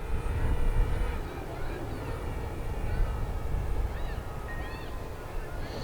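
A DJI Mavic Mini drone flies outdoors over a park into the wind, its steady high propeller whine heard at a distance over broad wind noise, with faint bird chirps near the end.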